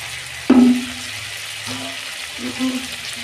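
Dried red chilli, bay leaf and whole cumin dropped into a little hot oil in a pan, giving a sharp burst of sizzling that settles into a soft crackle, with a few quieter sputters afterwards.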